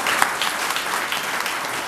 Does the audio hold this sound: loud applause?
yes